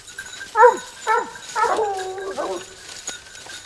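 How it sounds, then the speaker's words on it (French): A hunting dog barking and yelping during a wild boar hunt in Languedoc-Roussillon, with several sharp close barks and whines in quick succession, some overlapping, outdoors. "Le chien, il a pris un pied de sanglier"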